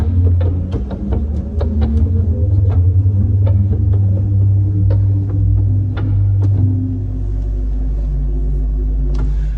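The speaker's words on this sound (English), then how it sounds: "the only pedal stop is a 16-foot Borden, and it sounds like this" Deep, steady low drone of a 16-foot Bourdon pedal stop on a small pipe organ, its pipes at the back of the instrument, sustained and fairly soft with faint room noises on top.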